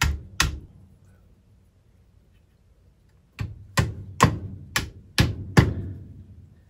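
Wooden dowels are tapped into drilled holes to set an angled dowel joint, giving sharp hollow knocks: two at the start, a long quiet gap, then six more in an even rhythm.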